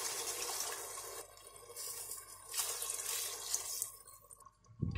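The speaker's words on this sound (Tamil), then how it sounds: "இப்போது இதில் 2 கப் தண்ணி சேர்த்துடலாம்" Water pours steadily into a pot of sautéed mutton biryani base in a few bursts, a close splashing rush with brief pauses, ending in a soft clatter.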